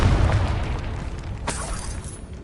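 The Confringo fire spell in the video game Hogwarts Legacy goes off as a deep, rumbling blast that fills the whole moment, with a sharper crack partway through and the roar slowly easing.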